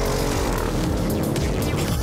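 Self-driving Audi car on a race track, a steady loud engine drone with road and tire roar filling the whole stretch, heard from inside the cabin with no break.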